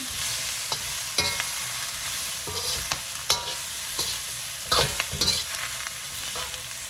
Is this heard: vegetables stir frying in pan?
yes